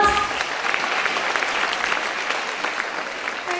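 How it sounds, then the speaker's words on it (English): A standing audience at a school's National Librarian Day event gives a speaker a big round of applause, dense continuous clapping that is loud and close at the start and then holds steady. "Please all of you stand up. Give him a huge round of applause."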